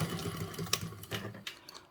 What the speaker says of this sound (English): I'm going to be sewing it and looping it around as I go